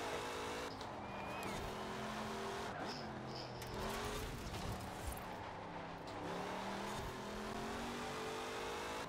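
Sports car engines hum and rev in the Forza racing video game, a modern Camaro among them, with steady droning tones shifting in pitch over several seconds, quiet and continuous.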